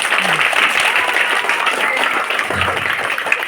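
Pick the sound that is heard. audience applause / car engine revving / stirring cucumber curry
audience applause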